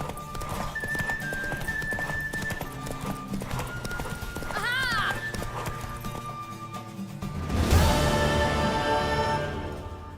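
Rhythmic hoofbeats clop steadily throughout as a horse gallops in The Witcher 3, with a whinny midway, layered over game music and effects, with a louder burst near the end.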